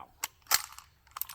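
A .338 ARC rifle fires subsonic 285-grain rounds through an Xcaliber X9K suppressor, heard as a few short, sharp, muted cracks spaced apart and close by, with no talk.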